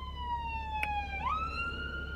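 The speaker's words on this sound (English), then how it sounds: "ambulance coming through." A passing ambulance siren wails with a steady tone that slides downward then shifts pitch as it goes by, heard from inside a moving vehicle over a low engine and road rumble.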